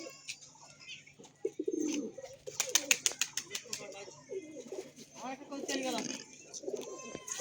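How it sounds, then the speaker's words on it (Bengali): A pet pigeon coos close by in soft, low rolling calls, broken by a quick burst of wing flaps and sharp clicks, while someone talks over parts of it. "একটা পায়রা এসেছে"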